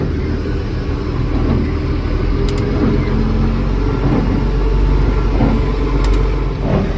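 An old tractor engine runs steadily at a low, rumbling idle, loud and close, alone without talk.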